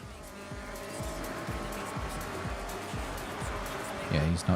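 A race car engine roars continuously with tires squealing in the Forza Horizon 6 racing video game, loud and steady throughout, with someone talking over the driving sounds.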